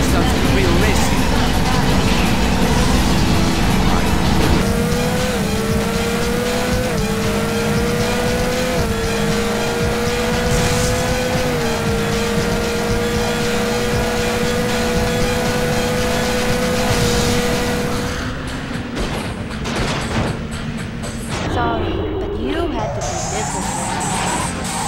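Race car engine in the Speed Racer video game, a loud sustained whine rising through repeated gear steps, tyres skidding and squealing, then easing off near the end while voices talk over it.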